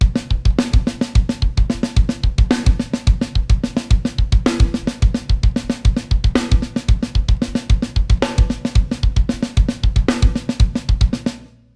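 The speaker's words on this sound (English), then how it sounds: "replacing or substituting all the right hands for a kick, and that would sound like this" A steady drum pattern of paradiddles with kick drum replacing the right hand mixes snare strokes with deep kick drum hits in a quick, even alternating rhythm, loud and close with no talking.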